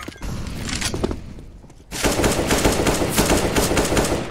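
Rapid automatic rifle fire in a tactical shooter match, a sustained burst cutting in, pausing, then resuming louder and denser for the last half, close and sharp with no talk.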